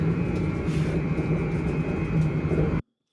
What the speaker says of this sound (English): Eurostar train to London in the Chunnel.